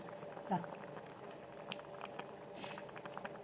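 Kerala-style fish curry made with chilli simmers in a pot, giving a faint, steady bubbling with soft pops and small patters close by, with no speech over it.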